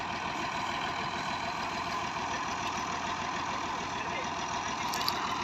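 A 1984 Massey 240 tractor idles steadily close by, its continuous diesel chug running evenly throughout, fitted with a thresher for wheat harvesting.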